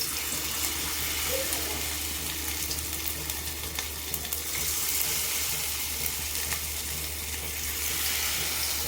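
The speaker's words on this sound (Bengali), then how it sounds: "এবার আমি এগুলোকে ভেজে নেব।" Cauliflower florets for Gobi Manchurian fry in hot oil, a steady dense crackling sizzle that runs evenly and fairly loud throughout, with no talking.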